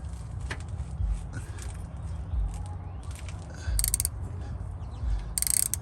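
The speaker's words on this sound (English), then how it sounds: "I got my bigger ratchet" A 7/16 bolt on a steering shaft being turned with a larger ratchet during a steering shaft install on a 1987 Monte Carlo SS, giving a few rapid clicking bursts against low background rumble, close by.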